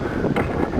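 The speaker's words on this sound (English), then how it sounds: "My apologies for the wind." Low, rumbling wind buffeting a microphone, steady and close throughout with no other clear sounds.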